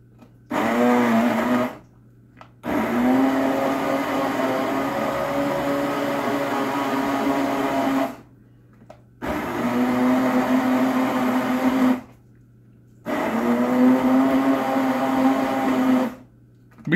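Kitchen blender whirring while pureeing broccoli cheese soup, loud and close, running in four long bursts separated by short pauses, with no voices over it.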